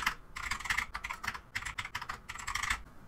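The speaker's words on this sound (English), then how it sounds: "simply press the tab key on your keyboard" Typing on a computer keyboard, including presses of the tab key, comes through as quick bursts of light plastic clicks in uneven runs with short pauses, close and fairly quiet, without talk.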